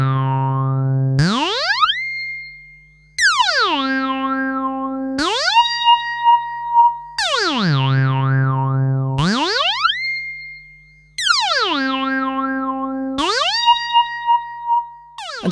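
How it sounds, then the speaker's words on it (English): A Roland System 100M 110 synth module running through a phase shifter whose modulation is driven by an LFO: repeated sweeping, rising and falling tones with swirling phaser motion over a steady low drone, loud and alone. "we have this 110 running into the phase shifter, which also has its modulation intensity controlled via the LFO in the 140 module"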